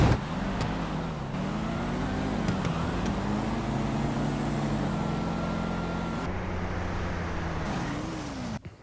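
Drag race cars in GTA V, a GT Classic and a Pro Mod Camaro, roar down the strip with loud sustained engine drone that rises and falls as they shift, close and steady throughout.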